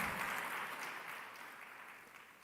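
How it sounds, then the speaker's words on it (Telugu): A church congregation clapping in praise, a faint, distant, diffuse wash of applause that slowly fades over a couple of seconds. "చప్పట్లు కొట్టి దేవుని స్తుతించండి"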